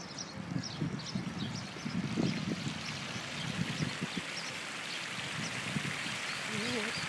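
Water from a dancing fountain in Yevpatoria splashes and patters steadily on a hot day, a broad rain-like wash with murmuring people and faint outdoor noise mixed in.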